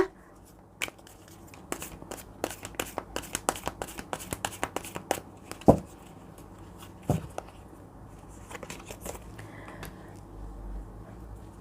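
Tarot cards shuffled by hand at close range during a love reading, a run of crisp riffling snaps and flicks that thin out into quieter handling, no talking.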